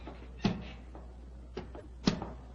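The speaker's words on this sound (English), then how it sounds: "The door's opening." A door opens in an old hall with a gallery, heard as two clear knocking thuds roughly a second and a half apart, with a fainter creak in between, against a low steady hum.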